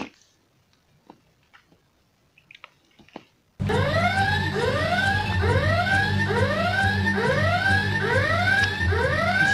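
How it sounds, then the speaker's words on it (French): A warbling electronic buzzer on a Playmobil Secret Story set bursts in loud after a few quiet seconds of faint clicks, its repeating rising sweeps sounding continuously to the end. "Bon ben moi je vais buzzer."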